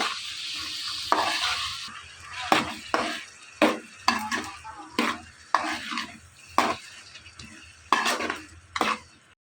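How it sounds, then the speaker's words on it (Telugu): Onions fry in a pan for chicken curry, a low sizzle under repeated sharp scrapes and clanks of a spoon stirring against the pan in an uneven rhythm. "ఆనియన్స్ అన్నీ కూడా బాగా గోల్డెన్ కలర్లోకి వచ్చేంత వరకు కూడా ఇవన్నీ ఫ్రై చేసుకోవాలి"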